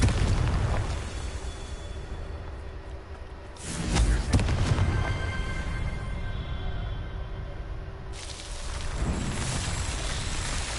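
Blasting-spell explosions in the Hogwarts Legacy video game: heavy booming bursts with loud low rumble, one surging near the middle and another toward the end, over a dense game soundscape with no talk.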